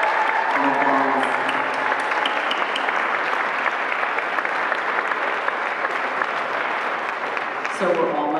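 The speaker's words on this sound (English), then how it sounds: "let's give all the awardees a big round of applause" An award ceremony audience gives a long, full round of applause for the sustainable business awardees, steady and dense throughout, with a voice briefly heard near the start and again as the clapping ends.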